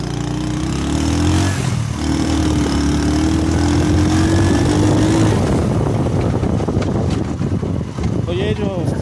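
A motorcycle carries riders across a dry riverbed area near the Sutlej River, its engine droning steadily under heavy wind buffeting on the microphone, with a voice talking over it.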